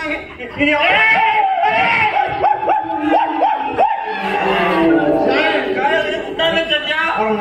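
A person imitates a dog barking with a quick series of yappy, rising barks during a Konkan folk theatre comedy performance, surrounded by loud talking and laughter.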